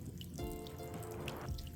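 Warm water spraying from a garden sprinkler onto a young tortoise, a soft close splashing trickle with light drips, steady and faint throughout.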